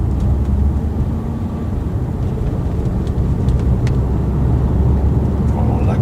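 A Renault Scenic accelerating in comfort driving mode gives a steady, loud engine and road roar heard from inside the cabin, holding constant for several seconds.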